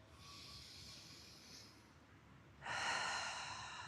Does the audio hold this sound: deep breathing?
yes